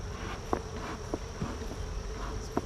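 Bees hum around a hive frame in a low, even buzz, with a few soft scraping knocks close by.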